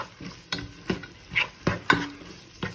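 Garlic frying in a pan for chicken pasta, stirred with a utensil that scrapes and clacks in a steady rhythm of about two strokes a second over a soft sizzle, close up.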